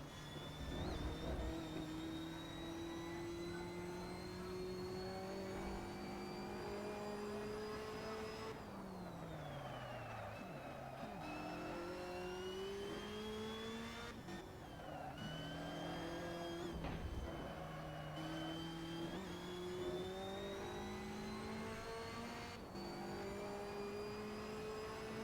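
Race car engine in the video game Assetto Corsa, a steady loud drone with harmonic whine that dips and rises through several downshifts and throttle lifts around a chicane, continuous with no talk.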